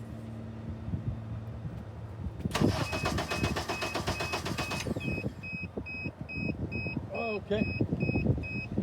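A vehicle engine cranks with its fuel cut off, a dense rapid churning that starts abruptly and runs about two seconds before stopping, followed by scraping noise and faint high electronic beeping while someone speaks briefly.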